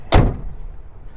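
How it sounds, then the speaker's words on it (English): Lorry cab door swung shut with a single solid thud, close by, followed by quiet background. "walk safely down the steps and close the door"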